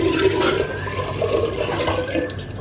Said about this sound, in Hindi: अभी पानी भरने वाला काम भी